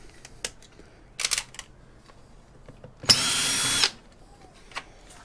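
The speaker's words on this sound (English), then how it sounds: "get a couple of screws out the side here of the hard drive" Power tool removing Torx screws from a hard drive inside a cable box, with short bursts of whirring near the start and one longer, louder spin of almost a second in the middle, surrounded by small clicks and handling noises.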